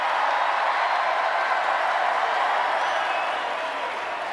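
A crowd at a political rally in Las Vegas cheers and applauds, a steady dense roar of clapping and voices that holds for several seconds without letting up.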